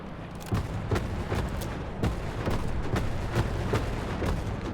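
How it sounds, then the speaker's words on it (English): Explosions from a bombing run in a video game, heard as a series of muffled distant booms and thuds. The blasts fall at irregular intervals over a steady rumbling background. "Very good bombing run, Tony."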